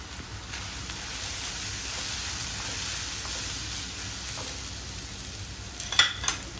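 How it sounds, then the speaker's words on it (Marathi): Onion sautés in a pan for spicy baingan bharta, a steady sizzle running throughout with faint stirring scrapes and a brief louder clatter near the end. "परतत असताना अजून कांदा भाजायचा."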